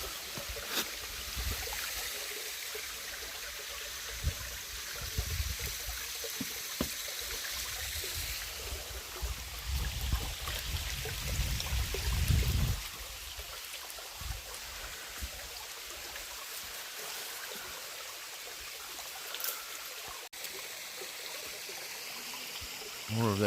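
Small waterfall in a creek among naturally fused stones, heard as a soft continuous trickling stream with faint rustle, fairly quiet and steady.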